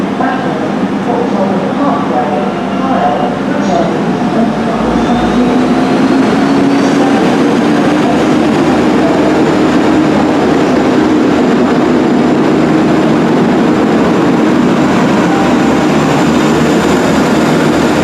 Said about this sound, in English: Leaving with the 1810 ARRIVA Trains Wales Service to Chester via Crewe